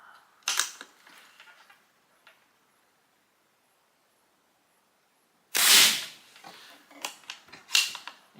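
Pinty .22 calibre PCP air rifle firing: a sharp crack near the start, a quiet gap, then a loud burst of clattering transients from the gun and its mechanism, close and dry.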